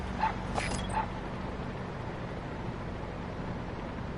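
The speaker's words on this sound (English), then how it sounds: "Oh, what a cute little puppy." A puppy in Metal Gear Solid 5 gives a few brief high yips and whimpers in the first second, then fades into a steady low game ambience with no talk.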